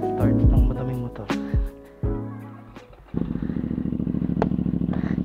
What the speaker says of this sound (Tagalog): Start ng madaming motor.